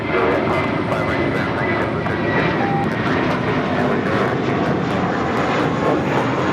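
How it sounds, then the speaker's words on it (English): A five-year-old JetBlue Airways Airbus A321 arriving from Newark lands at LAX with a loud, steady jet engine roar that holds evenly close by throughout. "This is a defining moment coming in from Newark on this 5-year-old A321 JetBlue Airways Flight 1373."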